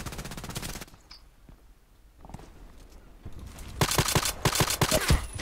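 Gunfire in the online shooter Contract Wars: dense bursts of rapid automatic shots at the start and again near the end, loud and close, with a quieter stretch of scattered single shots between.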